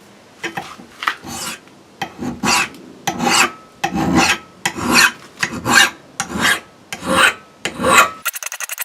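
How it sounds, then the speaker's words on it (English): A hand file rasps along the bevel of a cheap Chinese axe in about a dozen even, rhythmic push strokes, each a close, gritty scrape separated by brief pauses, with no talking. "I'm pushing the file towards the sharp part of the blade."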